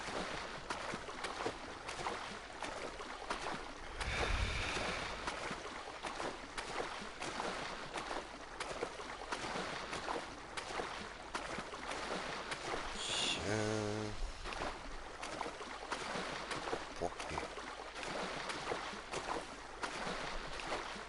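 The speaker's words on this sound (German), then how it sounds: "Jetzt kommen die Wellen und ficken mir oder was?" Water washing and lapping around a boat in GTA V Online, a steady broadband wash with a brief low rumbling swell near the middle, moderately quiet and continuous with no talk.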